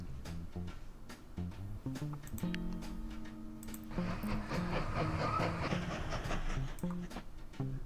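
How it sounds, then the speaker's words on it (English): An oil train running in the railway video game Mashinky rattles along with rhythmic clicking wheel beats and a sustained mechanical tone in the middle, moderately loud with no speech. "And there's our oil train,"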